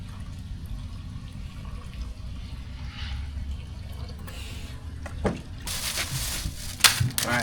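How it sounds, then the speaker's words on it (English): Water rushes into a bucket as it is filled halfway for mixing concrete stain, starting faint and swelling into a loud, steady pour with splashing bursts toward the end. "Half a scoop, ½ gallon of water. So fill this up halfway."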